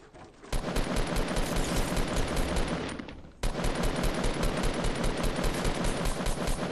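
Assault rifle fire in the Fortnite Battle Royale video game, loud rapid continuous automatic bursts, a long stream that briefly cuts out then resumes, with no voices over it.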